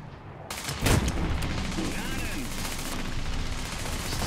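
SdKfz 164 Nashorn tank destroyer gun firing in War Thunder: one heavy boom stands out near the start over a steady rumbling battle background, with a voice talking throughout.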